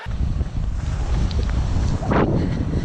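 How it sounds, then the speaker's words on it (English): Strong wind in rain buffets the microphone with a constant low rumble and gusty roar, and no one speaks. "It's windy, it's raining"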